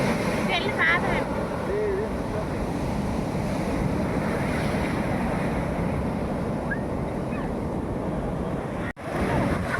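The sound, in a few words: waves at Marina Beach, Chennai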